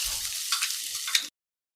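Mustard seeds, cumin, asafoetida and leaves hitting hot oil for besan burji. A loud, bright crackling sizzle is heard up close with a few sharp pops, and it cuts off abruptly after just over a second.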